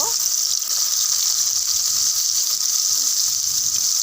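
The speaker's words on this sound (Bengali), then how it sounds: "এবার সয়াবিনগুলো ভেজে নেব।" Soybean chunks fry in hot oil with a loud, dense, continuous sizzle that stays constant and close throughout.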